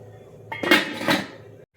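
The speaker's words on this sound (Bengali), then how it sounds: "এবার দেখো আমি ঢাকা দিয়ে দিচ্ছি।" A lid set onto a cooking pot while pui and pumpkin cook, two quick metallic clanks close together, loud and near, then silence.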